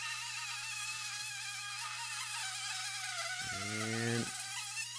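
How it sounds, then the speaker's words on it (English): Oscillating multi-tool cutting a plastic air intake part on a Ford Mustang, a steady high-pitched buzzing drone that runs throughout, with a brief lower-pitched whine near the end as the blade bites in. "Take my oscillating tool. There's one cut there"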